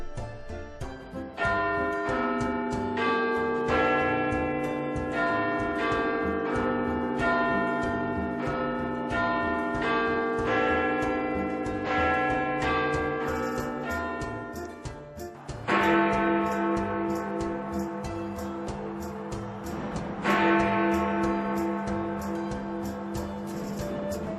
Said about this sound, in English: These 4 smaller bells are called quarter bells. They play part of a melody every 15 minutes and the full melody on the hour.